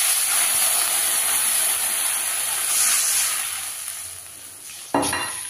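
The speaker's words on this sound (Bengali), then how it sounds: "এবার কড়াইতে সরিষার তেল, জিরে, শুকনো লঙ্কা ফোড়ন দিয়ে তার উপরে দিয়ে দিলাম একটু হলুদ" Cumin, dried chilli and turmeric sizzle in mustard oil in a wok, a steady close hiss that slowly fades before a sharp burst near the end.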